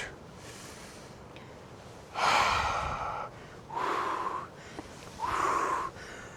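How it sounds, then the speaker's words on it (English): Three loud, close breaths during a low-impact workout, each a strong airy inhale or exhale lasting about a second, with short quiet gaps between and no speech. "Breathe in and out."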